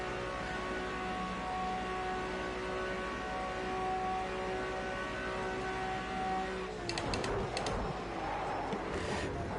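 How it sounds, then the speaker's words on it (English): A racing car engine in a Le Mans racing video game drones with a steady tone, then cuts into a burst of scraping, skidding noise as the rear tyres lock. "that was the sound of the rear tires going lickety-lock"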